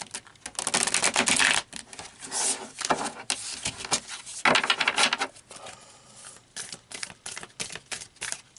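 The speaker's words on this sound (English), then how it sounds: "I want to shuffle these, but ooh, these cards are big." Crisp riffling and slapping of large, stiff tarot cards being shuffled, in irregular bursts of papery clatter with short pauses between them, close by.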